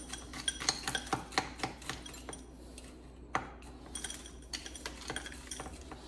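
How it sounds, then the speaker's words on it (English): Crushed ice is tossed into a mocktail glass, giving a run of sharp clinks and rattles, close and irregular, with a brief pause near the middle before more ice clatters in. "so now we're gonna throw in some of our ice"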